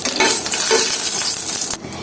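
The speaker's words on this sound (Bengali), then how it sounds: "তো শুকনো মরিচটা একটু ভেজে নেব।" Four or five dried red chillies frying in a pan, a dense close sizzle with stirring scrapes that cuts off abruptly near the end, leaving a quieter hiss.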